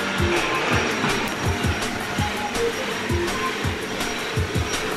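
A household vacuum cleaner runs steadily nearby, a continuous broadband whoosh with faint rhythmic bumps as it moves back and forth, no talking.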